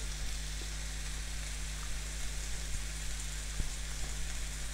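Lamb souvlaki cooking in a pan gives a steady, even sizzle and crackle with a few soft clicks and knocks, held at a constant level throughout and without any talk.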